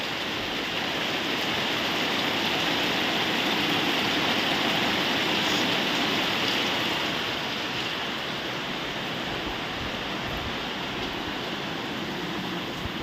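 A downpour of heavy rain roars as a continuous, even wash of noise, swelling slightly early on and then settling, with no voices over it.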